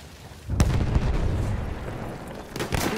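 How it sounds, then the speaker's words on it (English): Grenade explosion in Battlefield 1 on a World War I battlefield: a sharp, loud blast with a rumbling tail, followed moments later by another nearby boom amid the din of battle. "Throwing grenade! Watch it! Grenade out!"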